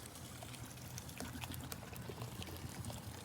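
Water is poured onto cumin and fennel seeds in a bowl to soak them for a cooling sherbet, giving a soft, steady trickling pour close by with no talking.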